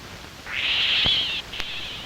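A Canada jay gives a harsh, drawn-out call followed by a shorter second note, clear and fairly close against a quiet background.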